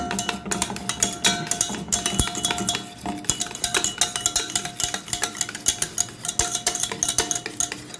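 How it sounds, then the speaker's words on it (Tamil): A whisk beats milk into curd in a bowl to set homemade yogurt, giving rapid, continuous metallic clinks and scrapes against the bowl, close and busy without pause. "இப்படி விஸ்க்கு வச்சு நல்லா கலக்கி விட்ருங்க"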